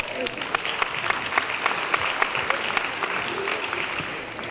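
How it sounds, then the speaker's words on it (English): Crowd applause at the 24th Annual Martin Luther King Jr. Basketball Tournament, a steady dense clapping from a large gathering in an indoor gym, sustained throughout with faint voices mixed in. "Let's give them a round of applause."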